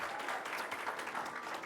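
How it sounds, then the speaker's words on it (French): Audience applause at a high-school trophy ceremony, a dense, steady wash of many hands clapping together, fairly faint and even throughout with no voices over it. "Est-ce qu'on peut applaudir pour l'ONAMA, s'il vous plaît?"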